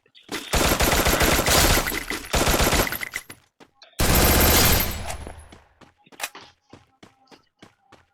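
Gunfire in a shooting video game comes in long, loud automatic bursts separated by short pauses, followed by scattered single shots and clicks as the shooting dies down.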